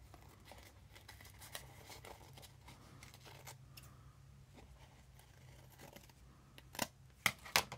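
Scissors snipping through magazine paper close up, a series of soft quick cuts over a quiet hum, ending in a few louder sharp snips and crinkles.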